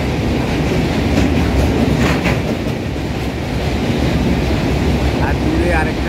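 A long passenger train rolls across the large railway bridge over the Godavari River in South India, a steady loud rumble with rhythmic wheel clatter throughout, heard close from inside the moving train.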